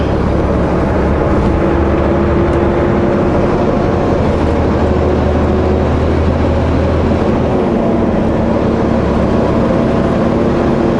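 A car engine runs steadily at high RPM, a continuous droning hum with a low rumble that holds at a constant loud level throughout, with no speech over it.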